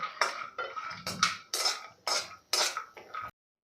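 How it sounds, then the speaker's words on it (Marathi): Cashews and almonds are stirred and roasted in ghee in a pan with a metal spoon, producing about eight distinct scraping, clinking strokes in an even rhythm, close and fairly quiet. "इथे सतत परतत परतत काजू बदामसुद्धा खमंगाशे परतून झालेले आहे"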